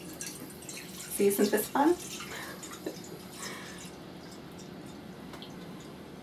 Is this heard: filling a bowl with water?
yes